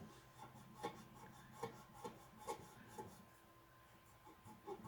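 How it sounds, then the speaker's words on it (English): Paper being rubbed off a tumbler during tattoo paper application: quiet, repeated rubbing strokes in an irregular rhythm, close and soft, with no talk. "Maybe if I rub it a little."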